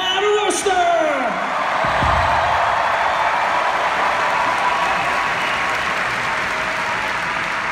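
A concert audience in Worcester, MA claps and cheers loudly and continuously, with whoops and shouts through a dense wash of applause and a brief voice near the start.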